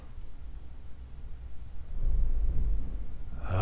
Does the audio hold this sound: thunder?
yes